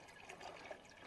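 Water pouring into a jug during a water filter setup, a brief soft splashing fill lasting about a second, quiet and close.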